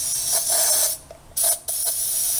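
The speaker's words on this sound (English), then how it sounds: "I want to also add my silicone spray, which is good for, to make sure it's good for plastic and wires and so forth" A silicone spray can hisses in bursts, with a long spray, a short pause and then two more blasts. The sound is close and loud, with a faint mechanical click between the sprays.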